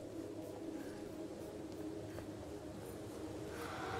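Soft bird cooing from the video game Röki, low and steady over a continuous ambient hum, with faint repeated coos throughout and no voices.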